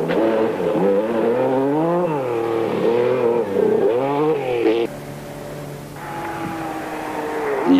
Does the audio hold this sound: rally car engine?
yes